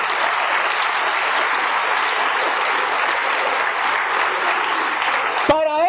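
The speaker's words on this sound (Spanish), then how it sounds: "Démosle un aplauso a ese texto precioso." Sustained audience applause from a church congregation, dense and steady clapping throughout, ending abruptly near the close.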